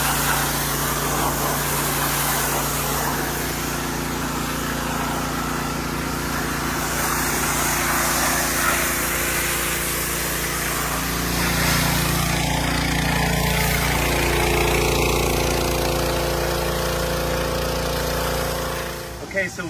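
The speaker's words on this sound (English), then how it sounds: "then power wash over the top where you've scrubbed" A power washer runs steadily with a constant engine drone while spraying an outdoor bronze sculpture, a long continuous hiss under a raised voice, shifting slightly partway through.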